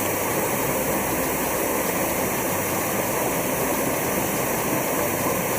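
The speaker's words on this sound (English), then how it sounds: "this is a pretty cool waterfall" Small waterfall with stone statuary near the rear temple of Temple 61 Kōonji in Japan, a loud, constant roar of falling water filling the whole span without a break.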